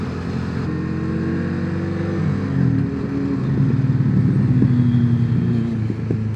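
A motorcycle engine with a deep, full, unobtrusive tone drones past, its pitch shifting as it nears and pulls away over steady road noise.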